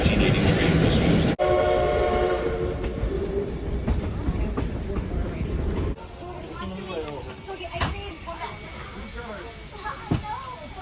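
The 1880 Train runs on its South Dakota tracks, a steady loud rumble and hiss of rolling cars with a sustained horn tone early on, then a shift to rattling clatter and wind noise. A voice is faintly present.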